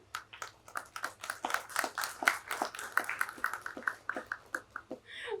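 Audience applause at a conference valedictory ceremony, with many hands clapping in a dense, irregular patter that holds steady for several seconds, moderately loud in a hall with a low hum underneath.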